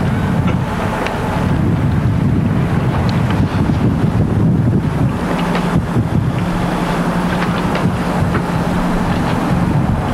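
Water sloshing and rocking around a docked ship alongside large floating camel fenders, heard as a steady broadband wash with heavy wind buffeting the microphone and low rumbling throughout.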